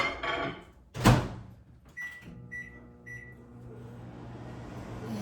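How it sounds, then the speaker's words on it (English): A door thunks shut, then three short electronic beeps sound before a low steady hum of a microwave oven heating egg bites settles in. "And then you just put them in the microwave for 90 seconds"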